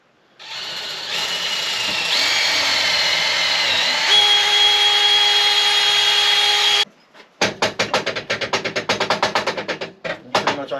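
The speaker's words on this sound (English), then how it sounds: "Then what you gotta do is you gotta drill in the bottom here to meet that hole." After a short pause, a power drill revs up and grinds into the bottom of a wooden carpenter bee trap for several seconds, then stops, followed by a series of rapid scraping, rasping strokes.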